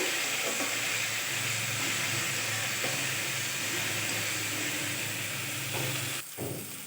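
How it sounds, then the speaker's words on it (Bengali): A paste of cumin and dried red chillies hisses and sizzles steadily as it is stir-fried in a pan, a dense continuous fry with occasional soft scrapes and a brief clatter near the end. "দিয়ে খুব ভালোভাবে নেড়ে চেড়ে কষিয়ে নেব।"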